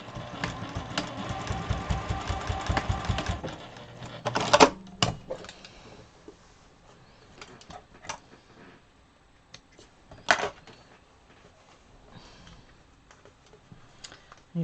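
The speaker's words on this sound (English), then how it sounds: "I'm actually going to sew straight down here, just to seal that off where it joined" A sewing machine runs in a rapid, steady stitching burst while sewing a straight seam on a quilt, then stops, followed by quieter clicks and handling noises, with some faint room sound.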